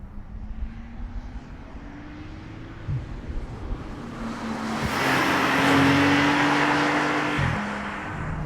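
A 2021 Porsche 992 911 Turbo drives on the wet Hockenheim racetrack, its engine note rising and shifting through gear changes, growing louder as it nears with hissing tyre spray over the wet surface.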